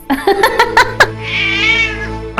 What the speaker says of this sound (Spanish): Pero no olvidemos al gato.